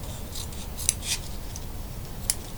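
Scissors snipping through a length of ribbon for a wine-bottle gift box, with a few quiet, sharp cuts over a soft background hiss and no talk.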